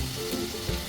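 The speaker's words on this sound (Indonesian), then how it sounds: "Isiannya kita tumis bumbunya dulu" Spice paste with onion frying in hot oil for a chicken curry puff filling, a dense continuous sizzle up close with a faint stir partway through and no voices.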